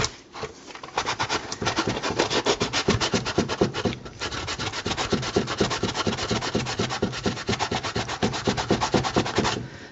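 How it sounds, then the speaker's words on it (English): Steady back-and-forth sanding strokes on a Nerf Stryfe blaster part, a close, continuous rhythmic rasp of abrasive on plastic lasting throughout with only a brief pause. "for projects like this where you're doing sanding"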